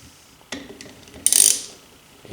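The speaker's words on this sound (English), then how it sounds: "Grab the screw, lag bolts, and grab my ratchet, appropriate socket size," Ratchet with a socket driving a lag bolt: a few quick clicking pawl strokes followed by a denser, louder burst of ratcheting, close and alone with no talk.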